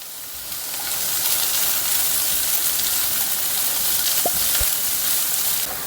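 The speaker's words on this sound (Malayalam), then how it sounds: "അപ്പോൾ ഇനി ഇതിലേക്കാട്ടോ ഈ ചെറിയുള്ളി ഇട്ട് കൊടുക്കണേ. അതൊന്നും ഇങ്ങനെ ഒന്ന് മൂക്കട്ടെ." Shallots frying in hot oil in a pan for bitter gourd pachadi, a broad steady hiss and sizzle that swells in quickly and holds loud and close, with a couple of faint metallic touches and no talking.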